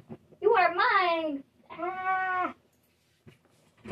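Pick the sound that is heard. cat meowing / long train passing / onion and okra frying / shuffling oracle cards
cat meowing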